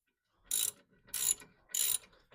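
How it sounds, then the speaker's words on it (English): A small wrench ratchets on a bolt of a driver side rear disc brake assembly, giving three distinct clicking bursts at an even pace with short quiet gaps between them, close and fairly clear. "we need our little wrench because she's going to spin on you"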